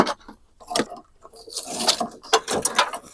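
Hand wrench working 10 mm body screws loose on a motorcycle, giving scattered metallic clicks and ratcheting scrapes, close and moderately loud, with brief rattling bursts and no talking.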